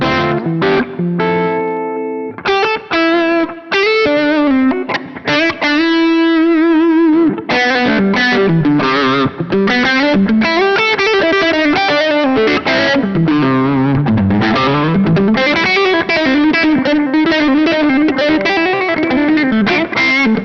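An electric guitar plays through a JHS Sweet Tea V2 overdrive pedal on its Angry Charlie side with gain lowered, giving a crunchy, old-school rock tone of chords and riffing lines, loud and continuous.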